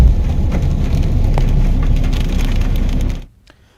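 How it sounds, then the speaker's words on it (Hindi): Heavy rain driven by strong wind makes a loud, dense, steady roar of drops pounding surfaces for about three seconds, then cuts off abruptly to near silence. "तेज हवा के साथ बारिश का दौर जारी है।"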